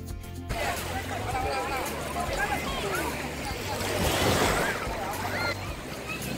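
Sea waves washing onto the shore at Dhanushkodi near Rameshwaram, a broad steady surf rush with wind, rising into a louder surge midway, while someone talks over it.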